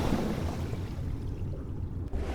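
Steady, close rush of sea water and washing waves as the player wades into the ocean in the video game Dear Esther, a continuous surging wash with no voices.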